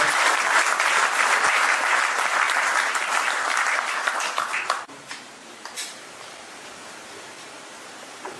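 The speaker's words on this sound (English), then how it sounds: "Please a round of applause for the Professor." An audience at a Nigerian British gala dinner applauds the professor, a loud, dense burst of clapping that runs about five seconds, then drops off sharply into a quiet room with a few stray claps.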